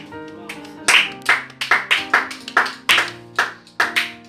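A church congregation claps after a scripture reading, with about a dozen loud, sharp claps in a steady rhythm over a sustained musical tone, close and clear.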